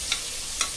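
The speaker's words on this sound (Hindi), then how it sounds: "अभी इसको थोड़ा सा भुनेंगे" Tilkut spice powder dry roasts in a pan with a faint steady sizzle, broken by two quick scraping stirs close by.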